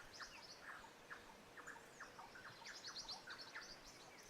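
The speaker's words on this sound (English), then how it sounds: "The birds are back as the petals loosen into the wind" Spring birdsong, several birds chirping and tweeting in scattered bursts over a soft outdoor background hiss, faint and a little distant.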